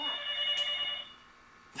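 A telephone rings in a couple of shrill electronic bursts, fairly faint and alone, with no talking.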